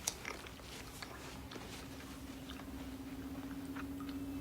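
Someone in an action film eats food quickly, with faint, soft biting and chewing sounds over a low steady hum.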